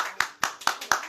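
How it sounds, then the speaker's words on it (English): Four sharp hand claps land in a quick, even rhythm, crisp and moderately loud, with no voices over them. "Can we get some more claps?"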